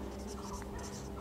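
Pen or chalk writing on paper or a board during a physics lesson, a short run of soft scratchy strokes under a faint background hum.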